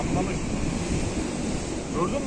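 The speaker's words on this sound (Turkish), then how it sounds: "Bak aşağıda dalgalar var." Sea waves break on the rocky shore of Istanbul late at night, a continuous rolling surf roar with gusting wind buffeting the microphone and a small surge at the end.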